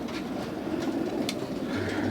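Pigeons coo softly in low, throaty murmurs over a steady background rumble, with a brief chirp partway through, inside a pigeon loft.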